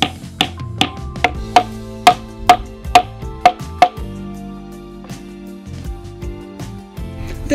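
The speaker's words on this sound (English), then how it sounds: "I drill holes in the bench and hammer in the spindle pegs" Wooden spindle pegs hammered into drilled holes in a handmade shave horse bench: roughly a dozen sharp, ringing knocks in a steady rhythm over the first four seconds, followed by a softer low rumble.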